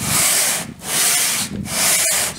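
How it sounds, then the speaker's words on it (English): Three rhythmic scratchy strokes of sandpaper rubbing across an old wooden butcher's block, each lasting about half a second with brief pauses between, close and steady. "So we're on to the sanding"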